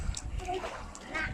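A child swimming splashes in water, giving quick soft sloshes and spatters up close, with faint voices in the background.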